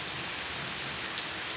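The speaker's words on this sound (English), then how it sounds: "Just watching the rain." Steady rain falls on a December evening, a dense, even hiss of drops on surfaces that stays constant and fairly soft throughout, with no voices.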